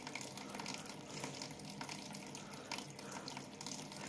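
An aquarium siphon drains tank water into a bucket, a continuous faint rushing and trickling flow with no talk, steady throughout.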